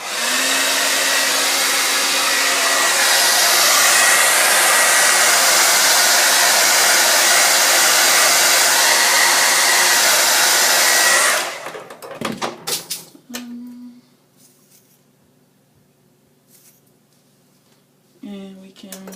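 A hair dryer blowing heat onto a quick weave hairstyle, a loud steady whoosh running for about eleven seconds before cutting off, followed by quieter handling noises and a brief voice.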